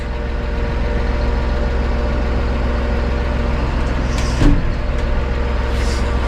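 A 2023 Massey Ferguson 4707 tractor engine runs with a steady, low rumble throughout, with a brief clunk or rattle near the end.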